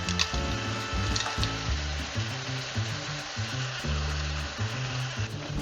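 Diced tomatoes and tomato paste sizzling in a hot pan for a chouriço and peas dish, a steady close crackle with a few scraping stirs.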